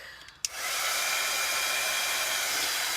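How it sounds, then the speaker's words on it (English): A hair dryer blowing on craft pieces switches on after a faint click and runs as a loud, steady, close whoosh. "I'm gonna go ahead and dry these quick."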